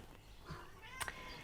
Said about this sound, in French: oui, alors j'ai le chat qui confirme